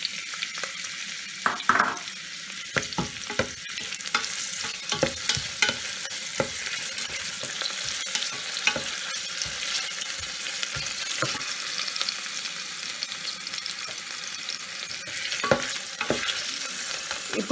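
Sliced onions fry in hot oil for bagara rice, a steady sizzle with a spatula stirring and scraping the pan in frequent close, sharp strokes; no voices.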